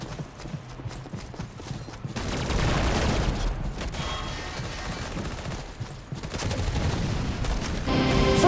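Rapid video game gunfire rattles in dense bursts, loud and close, with mechanical clatter between volleys and no speech.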